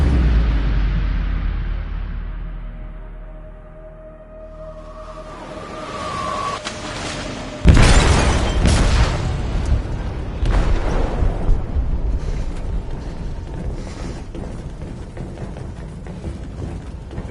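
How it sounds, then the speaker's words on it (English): An explosive detonates in a ship's hold in Detroit: Become Human, a sudden heavy boom after a tense, quiet buildup, followed by a long rumbling roar of debris and churning noise. "They detonated an explosive in the hold."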